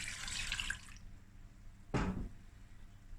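Warm milk splashes softly into a pot of mashed potatoes as a brief liquid pour, followed by a quieter wet slosh, heard faintly and close in a kitchen.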